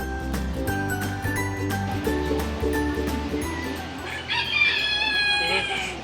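A rooster crows near a street food market and vintage truck show at Torrevieja: a loud, rising, drawn-out call breaks out near the end over a steady bed of tonal background noise.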